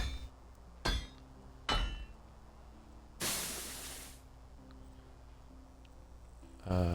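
Medieval Dynasty crafting of copper tools: two sharp metallic hammer strikes ring out, then a longer hissing burst follows and another hit lands at the end, all moderately loud over a quiet background with no talk.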